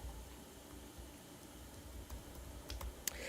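Someone types on a computer keyboard, soft scattered key clicks at a steady pace under a faint background hiss, with one sharper click near the end.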